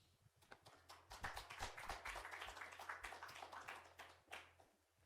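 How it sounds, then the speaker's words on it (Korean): A congregation claps to welcome a pastor at a staff worship service, a faint, distant patter of many hands that swells in the middle and then thins out. "우리 목사님 나오실 때 박수로 환영하겠습니다"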